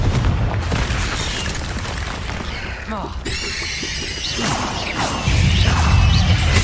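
Spell explosions and magic effects in the Hogwarts Legacy video game on PC, a dense run of booms, crashes and whooshing blasts layered over constant game noise, loud and continuous with no clear pauses.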